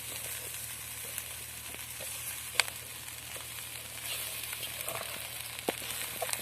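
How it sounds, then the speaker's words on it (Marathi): Flattened rice poha tossed and stirred in a frying pan with onions, a soft steady sizzle underneath occasional spoon taps and scrapes, fairly quiet and close, without any speech. "सगळे पोहे आम्ही टाकून दिलेले आहेत आणि आता चांगलं हलवून घ्यायचं आहे"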